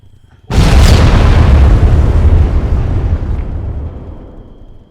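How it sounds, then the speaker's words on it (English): A giant IED explosion in the military game Arma 3 hits with a sudden, loud, deep boom, then rumbles and slowly decays over several seconds. "So here's an example of the giant explosion."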